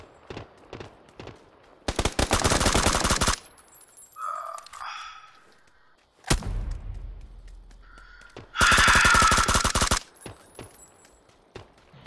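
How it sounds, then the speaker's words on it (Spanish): A shooting video game plays back two long bursts of rapid automatic gunfire, loud and dense, with single shots and short gaps between them and faint in-game effects in the quieter stretches. "Están disparando de lado."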